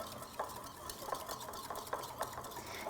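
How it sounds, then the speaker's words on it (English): A whisk stirring teriyaki sauce with ginger paste and xanthan gum in a bowl, making faint, rhythmic light clinks and swishes, about twice a second, over quiet room noise. "So I'm going to whisk that all together."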